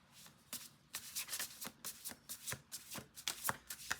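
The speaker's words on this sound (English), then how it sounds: "Let's do two more shuffles." A deck of cards shuffled by hand, with quick repeated riffles and light flicking bursts in an uneven rhythm, close and soft.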